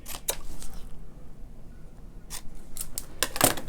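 Scissors trim the end off a paper craft piece for a winter card, giving several crisp snips close by, a couple at the start and a quick cluster near the end, with no talking.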